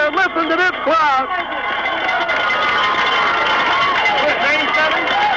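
A stadium crowd at a 1994 Plymouth State College football game roars after a 97-yard touchdown, a loud sustained wash of cheering with an excited commentator talking over it.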